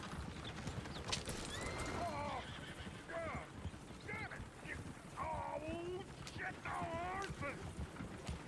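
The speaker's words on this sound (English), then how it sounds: "Damn horses!" Horses in Red Dead Redemption 2 whinny several times in rising and falling neighs, over steady hoof clip-clop and ambient noise, with voices talking faintly underneath.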